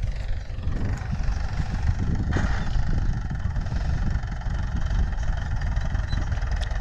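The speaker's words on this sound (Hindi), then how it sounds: "ट्रैक्टर आ रहा है एक और राउंड लेकर" An old Mahindra 575 DI tractor with a chisel plow working a field, its diesel engine a steady low rumbling drone at mid distance, continuous and unbroken with no talk.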